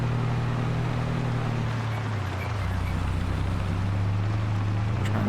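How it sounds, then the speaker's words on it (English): A tractor with a stone picker machine runs in Farming Simulator 22, giving a steady low engine drone that shifts pitch partway through, with a constant rumble and some faint talk underneath. "we'll set the stone picker off"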